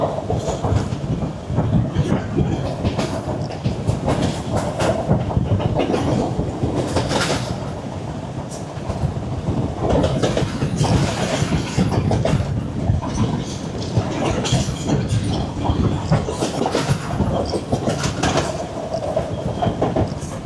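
A train on the Colombo to Galle line in Sri Lanka rolls on with a loud, continuous rumble and rhythmic clickety-clack of wheels, heard from inside a carriage with no pauses.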